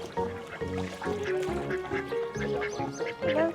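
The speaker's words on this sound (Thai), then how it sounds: "เป็ดกินไปหมดแล้ว" Several ducks quack busily at a cafe in Pathum Thani, Thailand, a loud close chorus of repeated calls overlapping almost without pause.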